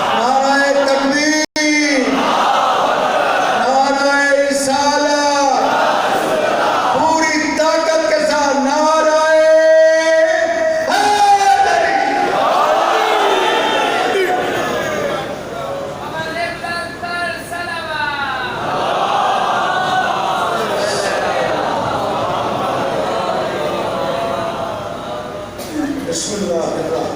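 A crowd chants a religious slogan in rhythmic, repeated call-and-response bursts at the Shia mosque in Krishan Nagar, Lahore, loud and close, with a lone voice leading between the responses.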